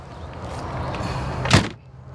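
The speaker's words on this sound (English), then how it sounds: "So when you close the door, it shuts the trim." A 1956 Chevy 210 two-door hardtop restomod's door swings shut with a single solid thunk near the end, over a steady low hum of background noise.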